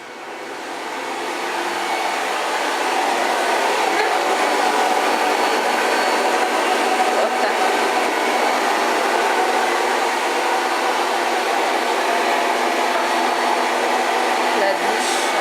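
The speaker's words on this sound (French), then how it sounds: "je vais vous montrer le sèche-cheveux" An old hair dryer spins up and runs steadily, a loud continuous whooshing roar that holds at an even level throughout, with no voices over it.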